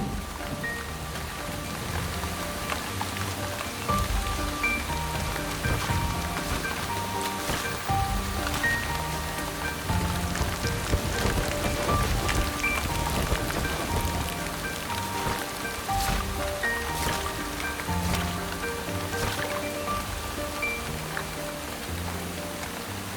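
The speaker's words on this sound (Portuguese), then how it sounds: "a chuva continua caindo." Heavy torrential rain pours steadily during a huge storm in Africa, a dense, continuous hiss of drops drumming on surfaces, close and even in loudness throughout with no voices.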